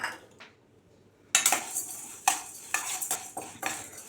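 Toor dal being dry-roasted and stirred in a pan over a medium flame, with a quiet start and then a run of sharp metallic scrapes and clinks of the utensil against the pan, close and fairly loud.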